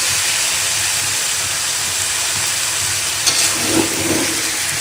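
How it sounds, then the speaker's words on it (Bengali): Boiled jackfruit goes into a frying pan of hot oil with ginger and garlic paste, producing a loud continuous hiss and sizzle that stays steady, with a couple of brief knocks near the end. "কাঁঠাল ঢেলে দিচ্ছি, সিদ্ধ করা কাঁঠাল।"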